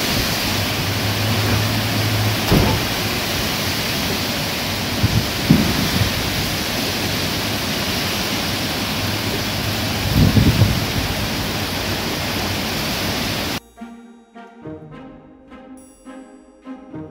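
Steady heavy rain pours outside with occasional low rumbles of thunder rolling under the downpour for most of the stretch, then the wash cuts off abruptly near the end, leaving a quieter, sparser tail.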